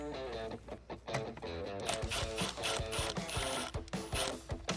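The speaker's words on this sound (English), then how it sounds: "I'm going to take an 8mm socket and then work my way towards this direction and ultimately pull out the air box" An 8mm socket on a ratchet loosening the factory air box fasteners on a 2011-2014 Mustang V6, giving rapid, close mechanical clicking in uneven bursts along with some handling noise.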